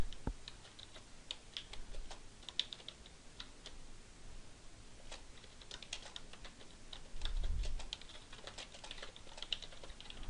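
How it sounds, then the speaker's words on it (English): Soft, quick keystrokes tap on a computer keyboard while text is typed into a PowerPoint slide, an irregular run of quiet clicks with no talking. "I'm going to right click and do Edit Text, and I can type my text."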